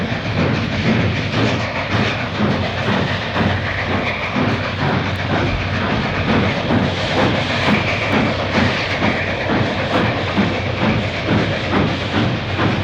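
A train rolls steadily along rail track, with continuous rumble, hissing and rhythmic clickety-clack of wheels over joints, loud and unbroken, recorded for a stereo test record.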